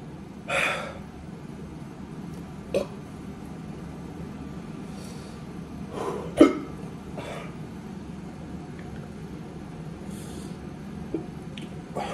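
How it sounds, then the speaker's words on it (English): A person taking a spicy chip challenge lets out a few sharp hiccups and gasps, isolated and close, with the loudest one midway over a quiet room background. "Is that a hiccup?"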